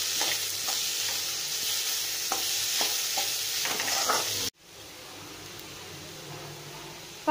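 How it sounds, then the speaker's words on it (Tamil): Onions for a Sri Lankan sugar sambal are stirred and fried in a pan, giving a steady close sizzle with scraping strokes of a spoon. The sound drops to a quieter hiss partway through. "இப்போ எல்லாத்தையும் நல்லா வதக்கி விட்டுக்கோங்க. வெங்காயம் நல்லா சுருண்டு வரணும்."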